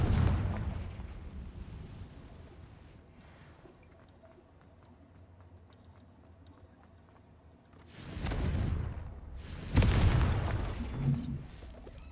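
A Confringo blasting spell explodes in Hogwarts Legacy with heavy, booming blasts, first one at the start, then two louder rumbling bursts near the end, over a quiet lull.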